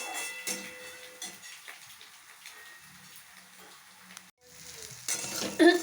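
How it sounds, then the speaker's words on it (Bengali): Food frying lightly in a pan at home, with a soft crackling sizzle throughout and occasional sharper pops and clinks, quiet in the middle and louder with bright crackles near the end. "ওকে দেখো অল্প একটু ভাজা করে দিচ্ছি"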